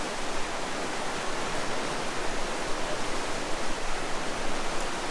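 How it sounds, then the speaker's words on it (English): A fast-moving river in Jasper National Park, a loud continuous roar of rushing water, broad and unbroken, heard close with no voices. "It's a fast-moving river."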